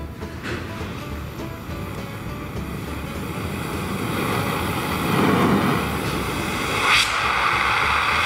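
An Oxyset mobile oxy-fuel brazing torch burns with a steady roaring hiss, the flame noise swelling slightly as oxygen is added, with faint background rumble and no talk.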